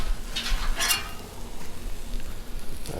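Noodles frying in oil on a Blackstone griddle, a steady sizzle broken by scraping and stirring clatter from a spatula, close and unbroken, with no voices.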